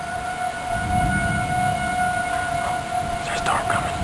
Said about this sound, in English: Are the sirens on?